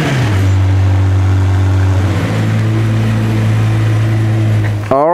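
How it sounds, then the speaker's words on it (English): A car engine cold-starting in a garage: a brief crank catches into a loud, steady high idle with a strong low drone held close to the microphone, then a sharp rising rev at the very end. "We'll get a cold start and then get it out"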